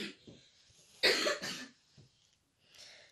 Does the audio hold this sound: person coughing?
yes